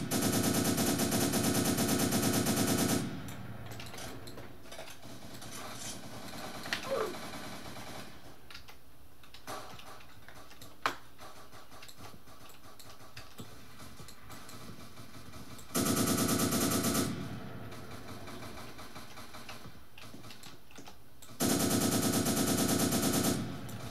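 Automatic gunfire rattles in Roblox Prison Life as rapid, loud bursts. There are three sustained volleys, at the start, in the middle and at the end, with quieter game ambience between them.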